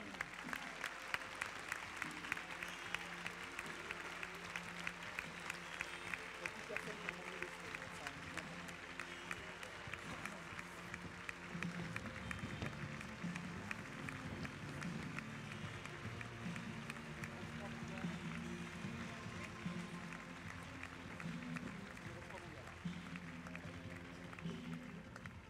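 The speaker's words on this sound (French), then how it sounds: "Je crois que vous pouvez continuer vos applaudissements pour l'entrée en piste" Sustained audience applause and crowd noise fill the Grand Palais Éphémère at the 2022 Saut Hermès CSI 5* show jumping event, dense clapping throughout with an announcer's amplified voice partly over it.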